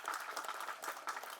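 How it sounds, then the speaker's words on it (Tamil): An indoor audience at a Tamil movie audio launch applauds, a dense steady wash of many hands clapping at fairly close range, continuing without a break and with no voices on top. "அவருக்கும் நம்ம இந்த நேரத்தில் ஒரு கைத்தட்டி பாராட்டு தெரிவிச்சுக்கலாம்."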